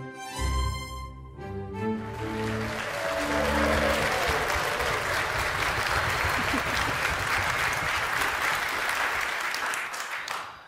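An audience at a Frisian dictation contest breaks into sustained applause after a brief musical sting, a dense, steady clapping that holds for about ten seconds before trailing off.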